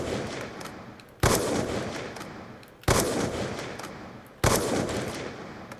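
Gunfire in Black Ops 2: three loud, booming shots spaced about one and a half seconds apart, each ringing out into a long decaying tail, with no talking.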